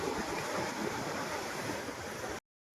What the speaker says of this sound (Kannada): ಸಿಕ್ಕಾಪಟ್ಟೆ ದೊಡ್ಡ ಅಲೆಗಳು